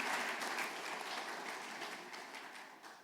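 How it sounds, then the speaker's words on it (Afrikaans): A congregation at a church thanksgiving service gives a round of applause. Dense, close clapping starts strong and slowly thins and fades over about three seconds. "Kan ons dalk net vir hulle weer 'n hande klap gee?"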